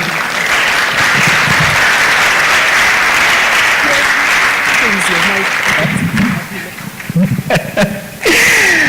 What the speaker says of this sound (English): Another beautiful and amazing round of applause for Dr. Caroline Mose